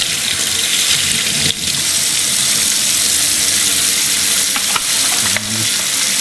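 Steady rushing, hissing flow of iodine-based sanitizer solution running into a bottle while kegging home brew, continuous and fairly loud with a few brief dips and gurgles.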